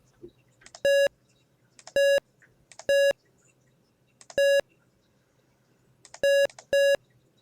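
Sharp electronic beeps ring out in separate bursts, some single and some in quick pairs, loud and close over a faint background hum, while setting up a game console to play Maniac Mansion.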